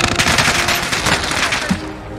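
Rapid machine gun fire in the Warzone video game, a loud, dense stream of shots with no pauses across the whole stretch.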